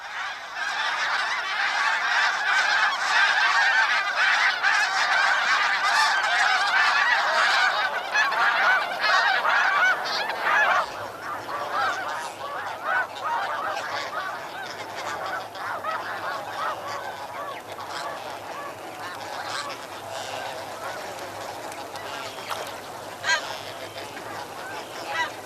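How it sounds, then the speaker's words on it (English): A huge flock of snow geese honking continuously, a dense overlapping chorus that is loud at first and then thins to a softer, more distant clamor, over the Chesapeake salt marshes. "the countless thousands of geese that pour out of the northern sky"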